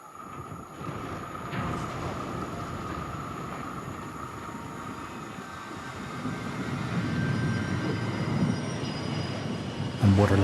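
A train rolls past at dusk with a steady broad rumble and faint wheel squeal that slowly builds in loudness, ending in a louder clatter at the close, with no talk.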